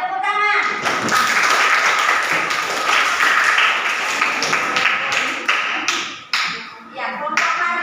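A group of people claps together in sustained applause at a religious group gathering, a dense crackle of hands that stays strong for several seconds before thinning and briefly picking up again.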